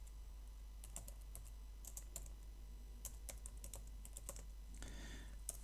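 Keys tapped on a computer keyboard while building a chart in a spreadsheet, quiet irregular clicks in short bursts over a low steady hum, close and faint, with no talking.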